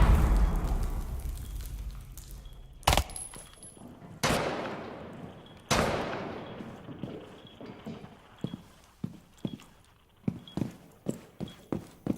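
C4 charges detonating in the Rainbow Six Siege shooter game, several sharp blasts spaced a second or two apart with decaying rumble, then a run of quick rapping impacts and bursts.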